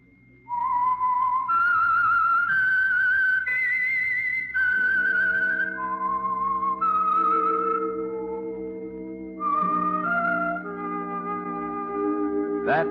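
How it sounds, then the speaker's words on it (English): A lone human whistler performs the eerie theme melody of the 1946 radio mystery program The Whistler, clear sustained notes rising and falling over a soft orchestral accompaniment. "That whistle is your signal for the Signal Oil program, The Whistler."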